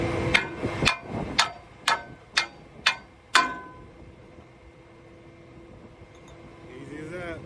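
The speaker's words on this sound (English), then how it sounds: "I cannot move, so I'm gonna have to hammer it out." Outdoors at an oil-drilling site, seven sharp metal hammer blows ring out in a steady rhythm, driving out a part stuck tight against rock, followed by quiet ambience and faint rustling.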